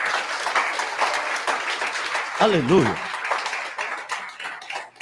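A church congregation applauds steadily in a lively, sustained patter while the preacher's voice rings out over the clapping.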